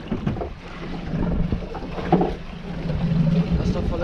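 A boat engine drones steadily, with only one of its engines running, while fishing for king mackerel off Northern Mozambique, joined by wind noise and brief voices.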